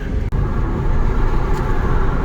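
A 2011 Volvo C30 R-Design with a manual gearbox cruising on a highway, a steady loud cabin rumble of road and engine noise with no talk.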